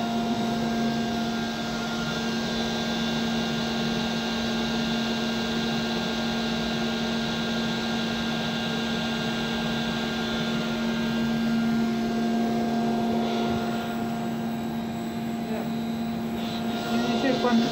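Electric motor of a cooling tower hydraulic line, run by an Allen-Bradley variable-frequency drive at 38 Hz, hums with a steady tonal whine and broadband rush, constant and fairly loud throughout, with a voice speaking over it at times.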